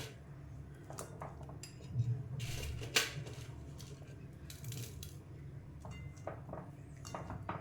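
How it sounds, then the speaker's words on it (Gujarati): Millet Maggi noodle pieces tipped into a pan of hot water and vegetables, heard as scattered close clinks, taps and scraping clatters of a utensil against the pan, loud bursts separated by quieter gaps. "હવે આ મેગીના બધા ટુકડા એડ કરી દઈશ અંદર"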